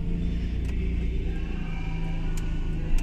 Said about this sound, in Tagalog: Oh my god, ang ingay naman ang sasakyan natin.